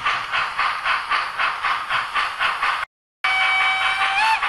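A Roco model of a Prussian P8 steam locomotive with built-in sound gives rhythmic chuffing in a steady pulse, then after a brief gap a whistle tone sounds over hiss.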